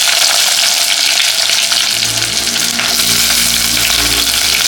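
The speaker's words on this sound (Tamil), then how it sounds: "ஒரு பூண்டை நறுக்கிட்டு அதையும் போட்டுருவேன். போட்டு நல்லா வேக வச்சிடலாம். நல்லா வதங்கட்டும்." Onions, green chilli, curry leaves and garlic fry in oil in a pan, a loud continuous sizzle with stirring, close up and with no voices.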